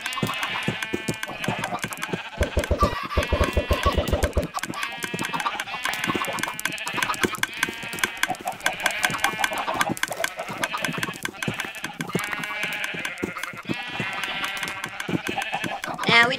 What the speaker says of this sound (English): That's a lot of little chickens.